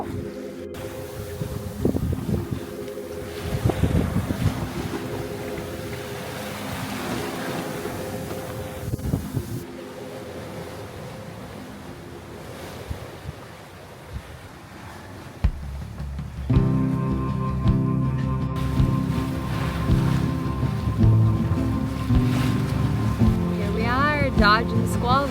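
A sailboat running fast on the open ocean in about 15 knots of wind, with steady wind and water rush throughout that grows louder and fuller in the second half, and people talking over it.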